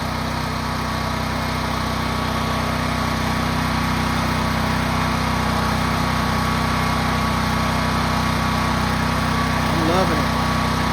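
A Westinghouse 12,500 W portable generator runs nearby with a loud, steady engine drone and hum at a constant pitch, heard alone and without talk.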